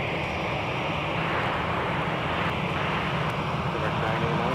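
An airliner rolls for takeoff on runway 12 left at Minneapolis–Saint Paul airport, a steady broad engine roar with low rumble holding throughout at dusk, heard from a distance with no clear peaks.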